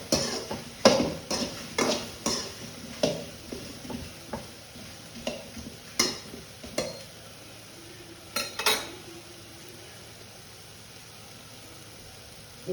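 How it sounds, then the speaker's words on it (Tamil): Okra sautés in a pan for sambar while a metal spatula clinks and scrapes against the pan in irregular, fairly sharp strokes over a faint sizzle. The stirring thins out toward the end. "இது வெண்டைக்காய் பட்டு வதங்கிட்டே இருக்கும்"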